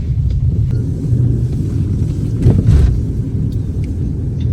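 A car rolling slowly over a rough, potholed road, a continuous low rumble with bumps and light wind noise on the microphone, close and fairly loud with no talk.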